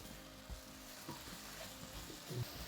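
Chicken pieces and potato wedges fry in a pan with a soft, steady sizzle, quiet and continuous, with a few faint stirring scrapes and clicks on top.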